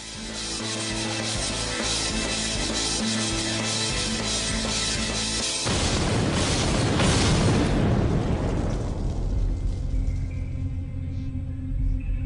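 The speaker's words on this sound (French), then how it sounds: "L'explosion libère une énergie de 33 millions de joules. La détonation résonne dans toute la ville." Over a musical backdrop, a dynamite blast erupts midway in a city: a huge roaring boom that rumbles on and slowly fades away.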